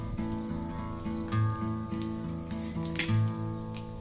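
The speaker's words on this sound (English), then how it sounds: "Saute the dals for about 15 to 20 seconds." Dals and a broken dried red chili sauteing in hot oil for tomato rice, a continuous close sizzle with scattered pops and light stirring clicks.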